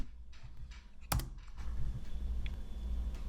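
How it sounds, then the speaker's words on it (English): Keys typed on a computer keyboard while entering a command to delete a node from an ESP32 wireless network, one sharp click standing out against faint background hum. "So I'm going to type in D."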